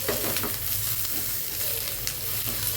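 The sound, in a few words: tomato frying with browned onion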